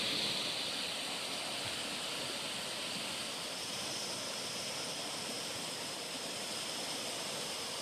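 Stony Creek rushing hard after a storm, a steady, dense roar of fast-flowing water close by, unbroken for the whole stretch with no voices.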